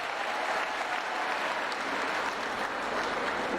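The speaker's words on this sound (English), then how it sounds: "A big round of applause for him." A seated audience at a university ceremony gives a steady, even round of applause after a vice chancellor is introduced for welcome remarks, a continuous wash of clapping with no speech.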